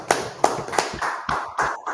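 A few hands clap at a Feast of Dedication closing gathering, giving about eight quick, sharp claps spread over two seconds, close and moderately loud with no voices.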